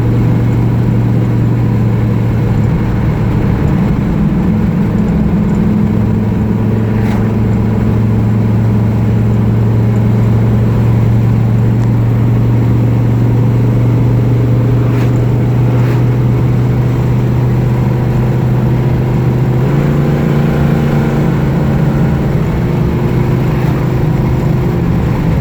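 A 1969 Dodge Coronet Super Bee, numbers-matching, accelerates with a steady, loud engine drone that climbs slightly, then steps up in pitch as the firm-shifting transmission changes gear near the end.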